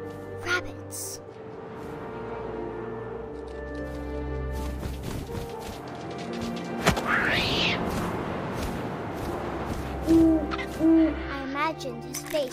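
An owl hoots in the video game What Remains of Edith Finch. A few soft hoots come amid wind and ambient game sounds, and a narrator's voice talks over much of it.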